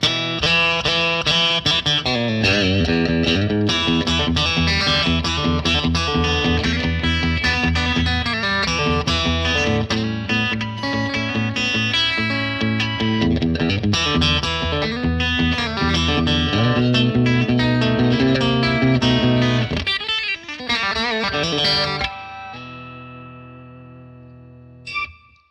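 A Telecaster on its bridge pickup played clean through a Bad Cat Black Cat amplifier, bright twangy chords and single-note runs ringing steadily before the final chord fades out, with a small pickup noise at the end.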